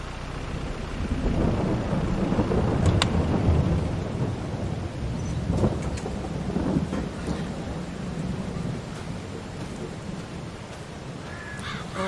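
Rain and rolling thunder in the Farming Simulator 22 video game, with a steady downpour and low rumbling swells, plus crow-like caws and a few sharp cracks over the storm.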